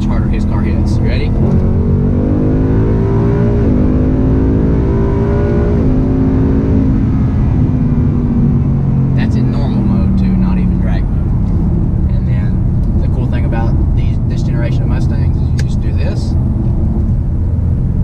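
A Mustang engine strains hard accelerating in third gear from 50, a loud rising drone that climbs steadily in pitch, close and continuous with voices talking over it.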